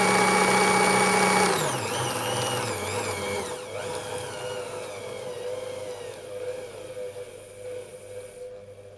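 A sewing machine driven by a DIY servo motor runs at its maximum speed of about 540 stitches a minute, a loud steady mechanical whir whose pitch drops and settles as it keeps humming.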